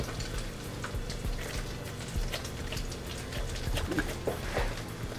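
Salmon croquettes frying in a hot pan, with a dense continuous crackle and sizzle of oil punctuated by sharper pops throughout.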